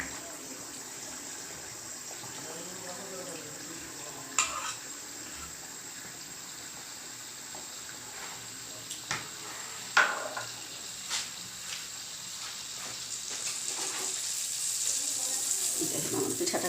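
Pitha dough fries in hot oil with a steady hiss and crackle that builds toward the end, punctuated by a few clinks and splashes, close and continuous.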